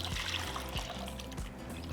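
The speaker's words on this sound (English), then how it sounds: "So now just pour the juice." Juice trickles and splashes into a chicken marinade for Mexican pollo asado, a short close pour with a few dribbling pulses and no voices.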